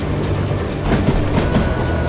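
Moving train in the Western shooter game Call of Juarez: Gunslinger, a steady rolling rumble with rhythmic clattering of wheels on rails, continuous and fairly loud throughout, with no voices.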